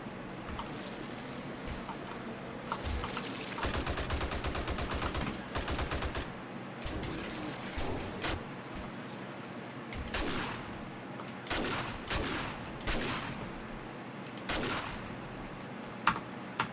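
Rapid bursts of firearm gunfire in the 7 Days to Die video game, sharp repeated cracks in several clusters spread across the stretch, fairly close and moderately loud with no talk.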